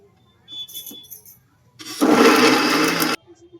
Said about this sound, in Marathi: आता आपण याला बारीक करून घेणार आहोत